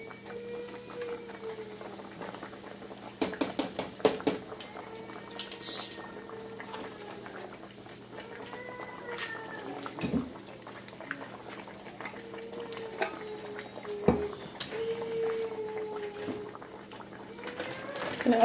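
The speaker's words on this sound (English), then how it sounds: "our broccoli is going to start steaming here soon for our cheese broccoli." A pot of water bubbles and simmers steadily as broccoli steams in it, with occasional clinks of utensils and a few sharp knocks against cookware.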